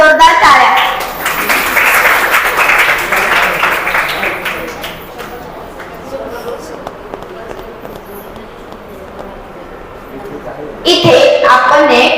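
Loud applause breaks out for a prize winner at a school annual gathering, dense clapping from the audience that thins gradually, with voices over it, then swells again near the end.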